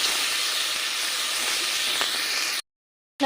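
Garlic and onions frying in oil in a wok, a broad steady hiss of sizzling that runs unbroken for over two seconds, then cuts off abruptly into silence.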